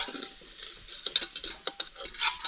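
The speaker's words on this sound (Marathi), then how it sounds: "आता सुंट भाजून घ्यायची चांगली तळून घ्यायची" Dry ginger is fried in oil in a pan, heard as a light hiss under irregular clinks and scrapes of stirring that grow busier and louder toward the end.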